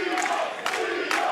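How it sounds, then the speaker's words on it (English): Wrestling arena crowd at a tag-team match roaring in a steady, dense wall of cheering, with brief louder surges swelling up partway through and again near the end. "And listen to this crowd."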